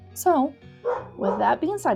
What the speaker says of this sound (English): if you hear my dogs in the background